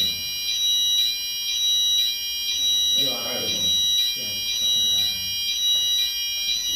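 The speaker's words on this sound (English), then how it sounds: "Okay, we have to stop because there's a fire alarm." A building fire alarm sounds loud and insistent, with steady high electronic tones pulsing in a regular rhythm throughout, while a person speaks briefly over it in an indoor room.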